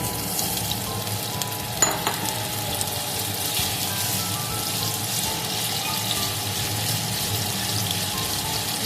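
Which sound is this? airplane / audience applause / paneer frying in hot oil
paneer frying in hot oil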